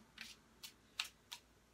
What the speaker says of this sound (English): Sorry, guys, I don't know how to shuffle.